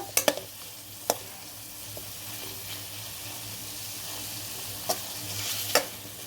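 Fenugreek leaf chutney being stirred as it fries in a pan, with a soft steady sizzle under scattered sharp scrapes and clinks of the spoon against the pan.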